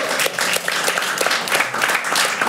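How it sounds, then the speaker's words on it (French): Studio audience at a televised political debate show bursts into lively applause, a loud, crackling flurry of many hands clapping continuously and close by. "Des applaudissements comme ça pour une première."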